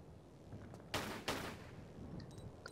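Lara firing a gun in the Tomb Raider: The Last Revelation video game, two sharp gunshots about a third of a second apart over a low ambient rumble, fairly faint overall.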